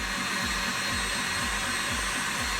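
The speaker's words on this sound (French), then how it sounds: "Maintenant, on va la mettre au batteur pour qu'elle tourne et qu'elle refroidisse." A stand mixer whips a meringue cream for a Christmas dessert, with a loud, steady, close whir and a faint rhythmic pulse from the beater.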